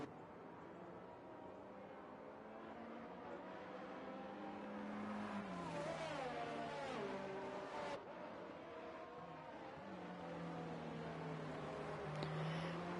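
Race engine in an F1 22 game session at the Chinese Grand Prix during a safety car period, a steady droning whine with rising and falling pitch sweeps, heard continuously at moderate level with a brief dip near the end.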